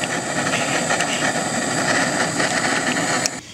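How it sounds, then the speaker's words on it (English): Loud, steady roaring hiss of a propane torch burning in a blacksmith forge, close and continuous with no talk, cutting off abruptly at the end. "if we just turn this propane on so you can hear it"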